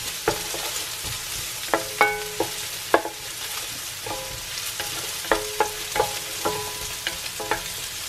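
Onions fry in a pan for beef tongue adobo, a steady sizzle punctuated by repeated sharp clinks and scrapes of a utensil stirring against the pan, with no talking.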